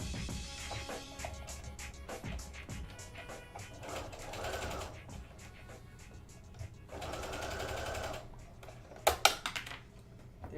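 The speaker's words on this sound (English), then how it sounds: "I will begin sewing." A sewing machine stitches a sailor shirt in bursts of steady mechanical whirring, with brief pauses and a few sharp clicks and clatters near the end. No one speaks.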